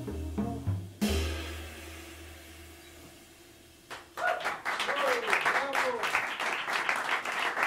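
Live jazz at Smalls: a tonal musical phrase fades out, then after a short pause the club audience breaks into lively applause that swells and keeps going, close and loud.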